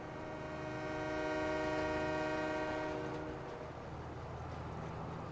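A very long video-game freight train rolls past on a Western-themed map, sounding a loud sustained horn over the steady rumble of the wagons, then the horn fades out while the rolling noise continues alone.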